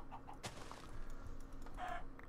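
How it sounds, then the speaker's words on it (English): Chickens in a Minecraft-style modded video game cluck in short bursts beside a sharp click, faint and near, with no talk over them. "Yep, there's some chickens right here."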